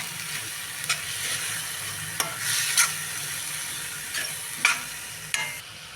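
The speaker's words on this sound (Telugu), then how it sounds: "ఇప్పుడు పాలకూరను మొత్తం వేసేసుకోండి ఇప్పుడు దీన్ని మొత్తాన్ని మిక్స్ చేసుకోండి" Spinach is stirred into an onion-chilli curry in a pan, a soft sizzle beneath repeated scraping and clinking of a spoon against the pan, close and fairly quiet.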